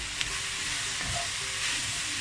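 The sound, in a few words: onions frying in a pan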